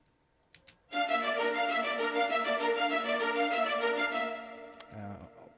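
Audio Imperia Talos and Cerberus orchestral libraries layered together, playing a dense, sustained spiccato passage of strings and brass for about three seconds, then cutting off to a brief low tail.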